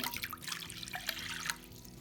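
Lukewarm water is poured for dough, making a short splashing trickle close by with a few drips and no speech.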